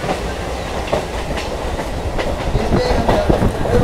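A MEMU passenger train on the Kharagpur to Purulia line pulls out of Bankura station in the rain, giving a steady close rolling rumble with rhythmic wheel clicks that grows slightly louder.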